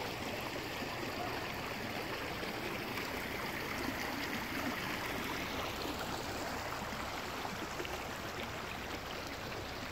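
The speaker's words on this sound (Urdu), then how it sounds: "یہ پانی دیکھیے" River water flowing through Kumrat valley, a steady rushing wash of broadband noise that stays even and fairly close throughout, with no voices.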